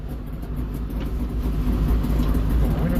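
An old vehicle engine idles steadily nearby, a low, rough rumble that holds even for a few seconds with a slight swell toward the end.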